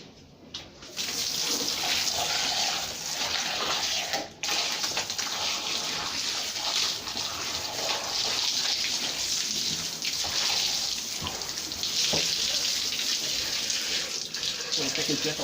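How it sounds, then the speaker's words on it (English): A strong jet of tap water gushes steadily through the body cavity of an eviscerated chicken during butchering, a continuous close splashing wash broken by a brief pause near the start. "So you take a jet of water and wash through the internal part of the body of the chicken"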